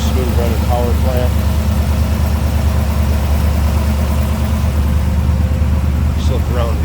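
A 1957 Ford Ranchero pickup's V8 idles smoothly and steadily, a loud, close, even low rumble that holds without a break, with brief faint chirps from belts or accessories over the top.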